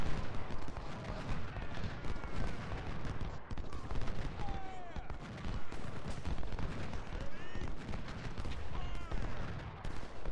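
Dense, continuous battle din from the video game Ultimate General: Civil War at the Battle of Chickamauga, with rumbling artillery fire layered with crackling volleys of gunfire and no break across the whole stretch.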